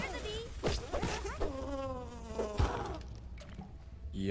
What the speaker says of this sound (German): Da ist eine Biene.